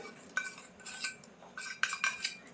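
A spoon stirs milk malai in a metal pan, giving quick clinking and scraping strokes in short bursts, close and moderately loud, with no talking.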